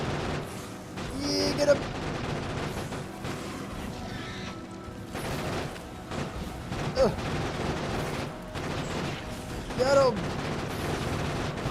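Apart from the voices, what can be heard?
grenade explosions and gunfire in the video game Factorio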